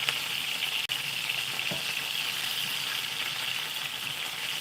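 Salmon fillets sizzle and fry in a pan after being flipped, a steady close hiss of hot oil with a brief soft knock partway through, no voices.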